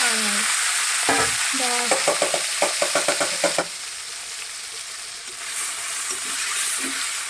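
Fresh fish coated in turmeric and salt sizzles steadily in hot oil, with a run of quick scraping stirs near the pan in the first few seconds, then a quieter, even hiss that swells slightly toward the end.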